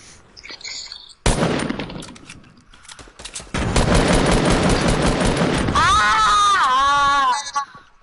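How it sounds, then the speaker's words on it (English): Grenade blasts and heavy gunfire in a PS4 video game burst loud and close. A sharp explosion hits early and a longer rolling barrage follows, then a voice shouts over the tail end. "I threw those grenades."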